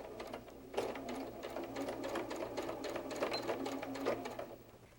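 A sewing machine stitches fabric pieces of a bear softie together, its needle running in a fast, even mechanical rhythm after a brief start, close and steady throughout with a low hum underneath and no voices.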